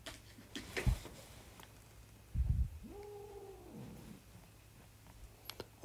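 Fighting cats let out a single drawn-out, wavering yowl of about a second amid faint background noise and a couple of soft thumps, with no talking.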